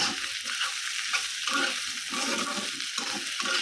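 Onion and garlic frying in a pan give a steady, moderately loud hiss that swells and dips in uneven pulses, as if being stirred.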